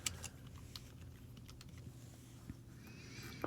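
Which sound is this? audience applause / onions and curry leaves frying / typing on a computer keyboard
typing on a computer keyboard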